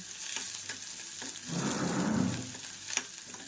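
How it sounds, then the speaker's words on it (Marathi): Onion fries in hot oil with a close, steady hiss that swells briefly as it is turned in the pan, with a few light clicks and no talking. "कांदा आपला थोडासा भाजून द्यायचा थोडा ब्राऊन"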